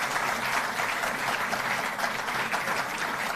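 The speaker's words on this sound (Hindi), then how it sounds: "जोरदार तालियों से।" Audience applause at a ceremony honouring national athletes, a dense steady clapping from a crowd sustained at even loudness throughout.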